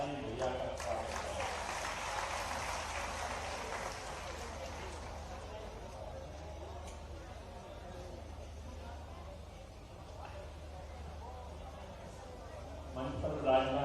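An audience claps steadily in welcome of Shivraj Singh Chouhan at an outdoor public event in Jahajpura, Sehore, held for the groundbreaking of development works; the applause is sustained and crowd-like throughout, with a faint murmur of voices beneath.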